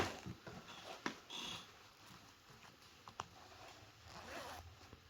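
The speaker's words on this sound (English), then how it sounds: "Nice sealed zipper." A zipper is pulled open and shut several times in quick rasping strokes, close by, with light handling rustles between.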